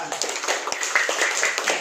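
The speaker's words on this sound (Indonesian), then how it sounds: "Tepuk tangan buat semuanya." A group claps together in a steady patter of applause, moderately close, with voices mixed faintly underneath.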